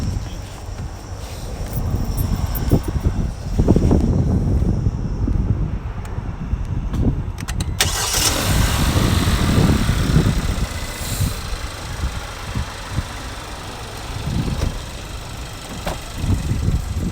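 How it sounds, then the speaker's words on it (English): A car starts and idles after a new battery is installed, a continuous low engine rumble under heavy outdoor wind buffeting on the microphone, lasting throughout with no speech. "And then we're gonna start up this car."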